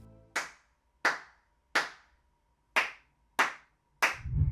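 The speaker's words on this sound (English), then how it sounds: "a quick clap test" Single hand claps test the sound of an untreated room, six sharp claps at roughly even intervals, each followed by a short ringing decay, heard alone from a microphone at the back of the room.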